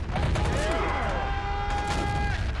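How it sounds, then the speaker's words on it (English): Covering gunfire in the toy-soldier war game Army Men of War on a beach invasion map, a dense crackle of shots and whistling rounds with someone talking over it. "Come on, get some covering fire on them."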